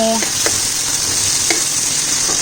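Small fish sauté in a hot pan with a steady, close sizzle and a few light clicks of stirring throughout.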